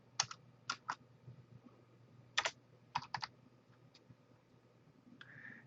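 Sparse computer keyboard keystrokes entering an answer, a few scattered clicks and short double taps at close range, quiet, with a soft low hum behind.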